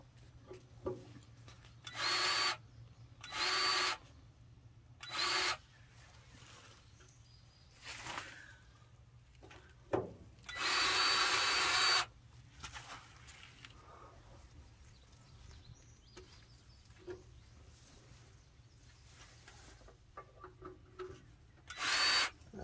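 A Milwaukee power tool, likely a grease gun or drill used while greasing a trailer, runs in several short bursts of varying length between quieter gaps, close by, with low background hum.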